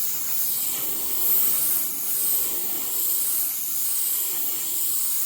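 An airbrush spraying a layer of paint, a steady close hiss that swells and eases slightly in short passes, with no voices.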